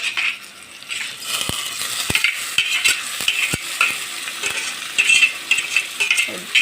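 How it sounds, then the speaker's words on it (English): Marinated beef frying with onion in a hot pan, a busy sizzle broken by sharp clacks and scrapes of a utensil stirring against the pan at an uneven rhythm. "I'm going to add our marinated beef to our onion"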